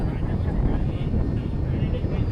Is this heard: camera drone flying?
yes